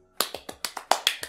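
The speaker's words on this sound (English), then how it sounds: "Everyone claps. Clap." A quick run of about eight sharp, evenly spaced claps from the video game I Love You, Colonel Sanders, crisp and close, with no voices.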